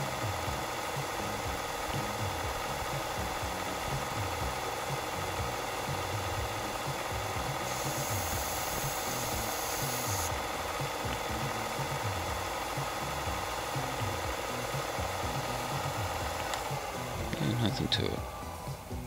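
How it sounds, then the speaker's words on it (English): A sander grinds and melts a plastic skateboard tail protector with a steady, mid-level motor hum and whir that runs throughout, a voice talking over it and a brief scraping flare near the end. "you get to experience the magic of the melting plastic, which happens due to the friction of the plastic with the sander"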